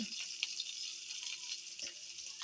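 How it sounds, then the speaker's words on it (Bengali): Garlic paste frying in a pan for a spinach and shrimp dish, a close, steady hissing sizzle with faint stirring scrapes. "পরিমাণ মতো হলুদের গুঁড়া দিয়ে ভালোভাবে নেড়ে চেড়ে মিশিয়ে নেব"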